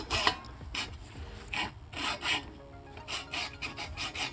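Hacksaw fitted with a bimetal blade cutting through metal stock for a truck cap roof rack, giving a series of rasping back-and-forth strokes, close and fairly loud, with short pauses between bursts and no talking.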